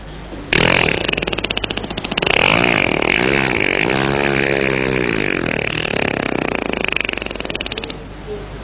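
A motorcycle engine that has run out of fuel sputters and churns in a long strained burst after a click, rising and falling without catching, then cuts off.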